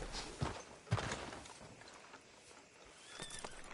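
Horse hooves walking in the Red Dead game, a few distinct clops near the start, then quieter ambient town sound with a faint high tone near the end.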